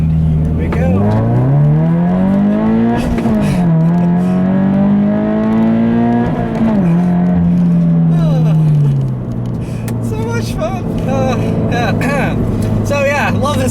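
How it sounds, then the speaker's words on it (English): A Subaru BRZ accelerates hard, its engine note climbing through the gears with a pitch drop at each shift, loud and close from inside the car, then easing to a lower steady drone; a person talks briefly near the end. "I'll leave you with a nice little acceleration here, like I always do."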